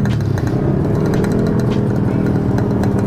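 A motorcycle engine idles steadily to warm up, a loud close continuous rumble, with faint ticking and mechanical clatter over it and no clear change in revs.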